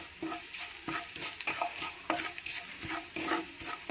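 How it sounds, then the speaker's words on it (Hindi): Spices with amchur powder roast in a pan, a faint low sizzle broken by repeated rhythmic scraping strokes of a spoon stirring, close and steady. "हम सारे मसाले भून लिए हैं।"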